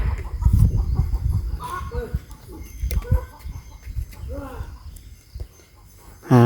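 Chickens cluck and squawk intermittently on a rural Thai homestead, close and moderately loud, mixed with rustling, footsteps and background noise, ending in a louder squawk.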